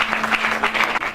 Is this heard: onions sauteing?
no